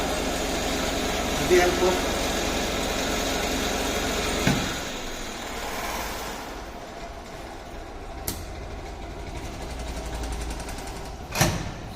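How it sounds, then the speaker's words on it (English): DC shunt motor on a lab load-test bench being switched off, a steady humming whir that drops away partway through, leaving quieter rumble and a few sharp clicks, with someone speaking over it. "And stop the motor"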